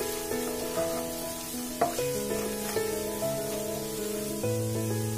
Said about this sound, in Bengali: আদা রসুনটা আমি এক মিনিটের মতন ভেজে নিয়েছি, মানে আদা রসুন ভাজা হয়ে গেছে।